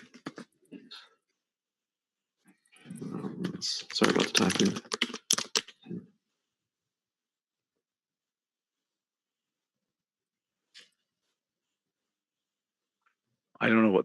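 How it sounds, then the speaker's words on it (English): Fingers tap a computer keyboard during a live software programming session, a short burst of quick close clicks mixed with speech, followed by long silence. "Sorry about the typing."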